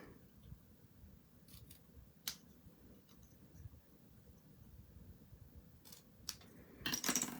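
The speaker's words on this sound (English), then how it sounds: "I'm going to go ahead and cut these ones in an angle." Scissors make a few faint, crisp snips while cutting card pieces at an angle for Halloween cards, scattered over a soft, noisy background.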